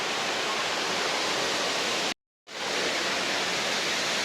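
Palurkotta waterfall in Malappuram, Kerala pours with a loud, steady roar of rushing water, broken by one brief silent gap midway before the torrent resumes.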